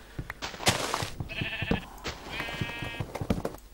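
Sheep in the Minecraft video game bleat twice in quick succession, wavering nasal cries amid scattered clicks and footstep-like taps, fairly close and loud with no speech.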